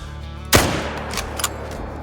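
A single loud, close rifle shot fires in the hunting video game Call of the Wild, its sharp crack decaying over about half a second, followed by a couple of faint, brief clicks.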